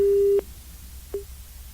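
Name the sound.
telephone busy tone after call hung up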